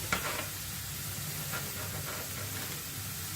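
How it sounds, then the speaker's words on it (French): Steak grills in a home kitchen while a McDonald's-style hamburger is made, giving a steady close sizzle and hiss with a small clatter at the start. "je suis en train de faire griller le steak"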